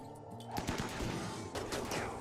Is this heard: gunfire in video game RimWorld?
yes